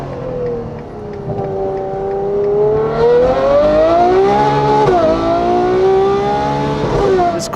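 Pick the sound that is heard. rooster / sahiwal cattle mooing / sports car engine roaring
sports car engine roaring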